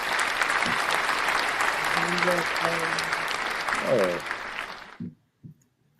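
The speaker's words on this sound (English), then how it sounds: "Let's give Summer a round of applause for that journal being out." Studio audience applause on an unplugged talk show, a full round of clapping with voices speaking over it, cutting off abruptly near the end into near silence.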